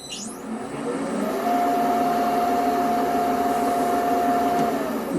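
A Oneway 2436 lathe is switched on and runs up to speed, a steady close motor whine and hum holding an even tone throughout after a brief startup.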